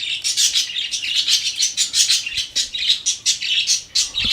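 Birds chirping in a scene from the Italian horror film The Gates of Hell, a dense flock twittering in rapid bright bursts with some wing flapping, loud and continuous.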